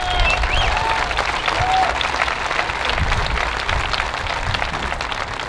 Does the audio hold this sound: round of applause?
yes